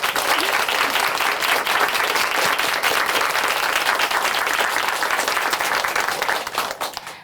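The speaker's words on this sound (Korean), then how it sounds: "다시 한번 응원의 박수 보내드릴게요" A studio audience on a Christian TV show claps warmly for a guest, a loud, full and sustained wash of many hands that holds steady before tapering off near the end.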